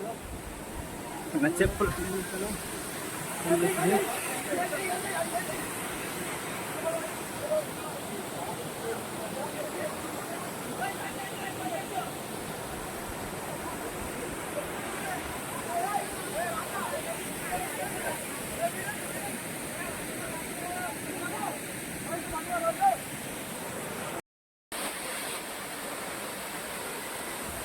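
Gandahati waterfall in Odisha gives a constant broadband roar of falling water heard from nearby, while people talk briefly over it.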